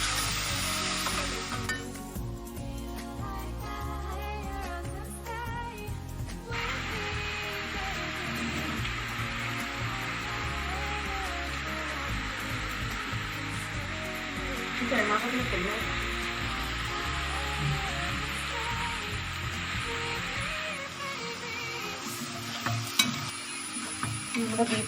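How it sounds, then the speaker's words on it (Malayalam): Beef dry fry sizzles steadily in a hot pan while being stirred, with continuous frying crackle and repeated scraping of the spoon throughout, fairly close and loud. "ഇനി നമ്മൾ നന്നായിട്ട് ഇളക്കി നന്നായിട്ടൊന്ന് ഫ്രൈ ആയിട്ട് എടുക്കും."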